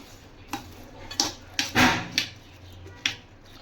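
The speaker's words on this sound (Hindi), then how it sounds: "ये मैंने मसाले डाल दिए, अब करती हैं इसे मिक्स" Spices being stirred into food in a bowl come through as a few distinct knocks and scrapes of a utensil against the bowl, spaced irregularly over a quiet background, close up and without speech.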